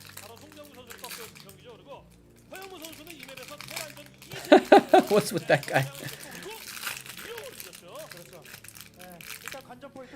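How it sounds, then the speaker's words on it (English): A protein bar wrapper crinkles and crunches in a dense burst of crackling lasting a second or two, with a person talking before and after it. "crunching sound of the wrapper too annoying"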